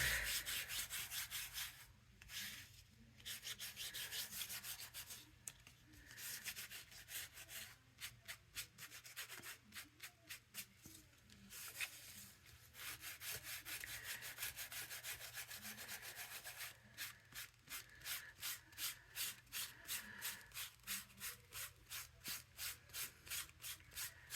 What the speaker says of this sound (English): I'm gonna have some scrubbing to do.